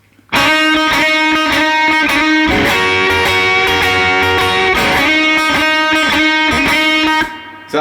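A blues lick on electric guitar, loud and close with mild overdrive: sharp rhythmic stabs, then a sustained ringing passage in the middle, then more choppy strummed hits, with no talking.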